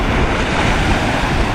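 Wind blows steadily at a windy lake shore while waves lap and wash close by, making a dense, continuous broadband roar with some wind buffeting on the microphone.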